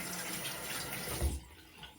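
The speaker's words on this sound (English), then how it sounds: "I will rinse out my sponge here, get all the soap out of it" Water from a running tap splashes steadily into a sink while a soapy cleaning sponge is rinsed out, a continuous close hiss with a brief heavier gush near the end.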